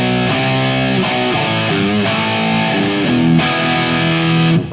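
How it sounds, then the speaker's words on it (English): An electric guitar cranked to heavy distortion plays a string of loud, saturated notes and chords with sharp pick attacks, ringing and bending between hits, a thick rock or metal tone with no voice over it. "If I crank up the distortion,"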